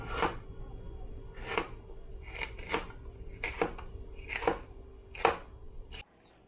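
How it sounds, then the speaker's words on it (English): A knife chops sweet pepper on a board for a curry goat dinner, giving about eight sharp, evenly spaced strikes close by that stop abruptly at the end. "I was just cutting up the sweet pepper"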